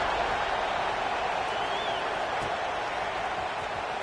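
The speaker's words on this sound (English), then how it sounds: "this crowd is buzzing after that last score" Stadium crowd buzzing at a college football game against Auburn after a touchdown, a dense, steady roar of many voices filling the whole stretch without breaks.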